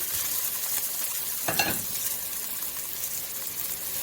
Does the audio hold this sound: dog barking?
no